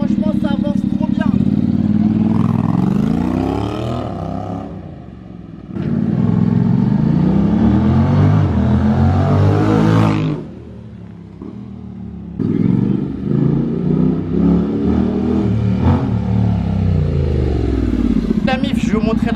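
Honda Forza 750 scooter being ridden, engine loud and close, rising in pitch as it accelerates through several pulls with brief drops between, while the rider talks.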